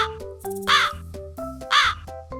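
Several crows caw loudly in harsh, repeated bursts as a flock swoops to attack in an animated Hindi folk tale, two strong caw clusters standing out over layered bird calls with no talking.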